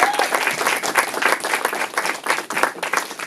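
A panel audience at a Girls und Panzer der Film Q&A applauds, a dense, steady wash of clapping hands that stays loud for the whole stretch with no talk over it.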